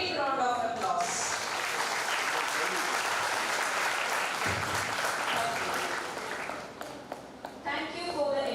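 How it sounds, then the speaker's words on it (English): Sustained applause from a conference audience at a pharmacy college, a dense loud clapping wash lasting several seconds and thinning toward the end as a voice starts speaking. "Let us give him a big round of applause."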